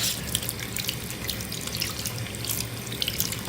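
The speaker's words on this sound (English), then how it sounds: "let's go ahead and run that underwater and just clean that" Running tap water splashes steadily over a crystal being rinsed, a continuous close gush with small irregular spatters and drips.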